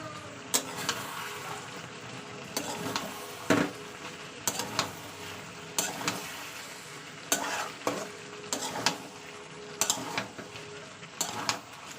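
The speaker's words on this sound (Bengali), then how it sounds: "চলুন এবার মশলাটা ভালো কষিয়ে নেবো তেলের সঙ্গে" Spice paste is stirred and fried in oil with bottle gourd and potato, a soft steady sizzle broken by regular scraping strokes of a spoon against the pan, close and fairly quiet.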